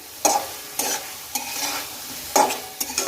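Spices sizzle in a hot pan as a spoon stirs in boiled drumsticks (moringa pods), with repeated scraping strokes and bursts of hissing, close and fairly loud.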